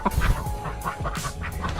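Farm ducks quacking and calling in several short, irregular bursts close by, loud and unbroken by talk.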